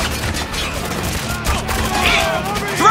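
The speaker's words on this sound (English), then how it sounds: "Get your rifle on my target!" Rifle fire in the combat video game Spec Ops: The Line, a steady rattle of gunshots and explosions mixed under shouted voices, loud and continuous throughout.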